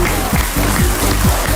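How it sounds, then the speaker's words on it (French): A live audience breaks into loud, close applause, dense steady clapping that runs without pause, with faint crowd noise underneath. "on les applaudit"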